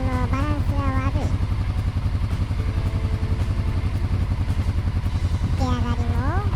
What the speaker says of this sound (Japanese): バタバタと排気音のバランスが悪い。